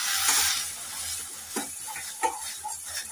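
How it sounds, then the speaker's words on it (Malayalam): Milk and jaggery thickening in a pan as it is stirred, a steady bubbling hiss with louder scraping strokes of the spoon against the pan at irregular intervals. "അപ്പോൾ നമുക്ക് നന്നായിട്ട് ഇതൊന്ന് ഇളക്കി കുറുക്കിയെടുക്കണം."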